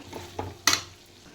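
A spoon scrapes and stirs chicken pickle with chili powder and fenugreek in a pan, two soft strokes followed by a sharper metallic scrape against the pan, close and brief.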